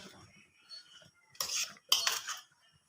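A spoon mixes cream chaat ingredients with almonds, walnuts and cashews in a bowl, making two short, close bursts of clinking and scraping against the dish between quieter moments.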